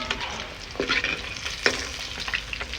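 Fish pieces fry and sizzle in oil over a wood-fire stove, a steady crackling hiss close by with a few sharper bursts as pieces shift in the pan.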